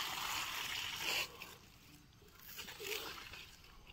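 Water gushes and sloshes out of an irrigation pipe on a vegetable farm, a steady close hissing rush that dips briefly and then swells again.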